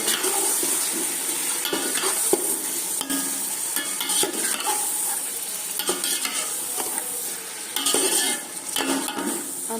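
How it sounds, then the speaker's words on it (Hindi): Chicken pieces frying in a pan for a village-style chicken pulao, a continuous loud sizzle broken by frequent scraping and clinking of a spoon stirring against the metal. "चिकन को आपने इसमें फ्राई करना थोड़ी देर के लिए"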